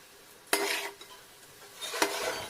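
Garlic cloves, mustard seeds and cumin fry in hot oil, with two bursts of loud sizzling as ingredients are stirred, fading between them to a soft crackle; no talking.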